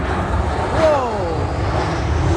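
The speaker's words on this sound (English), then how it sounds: "Okay, it's landing now." A Pilatus turboprop comes in to land, its propeller and engine drone a steady broadband roar with a descending pitch sweep as it passes close by.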